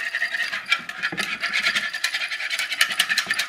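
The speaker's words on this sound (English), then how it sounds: "Get this whisked together." Black pepper vinaigrette whisked briskly in a bowl, a quick rhythmic scraping and clinking of the whisk that repeats continuously, close and clear, with no talk.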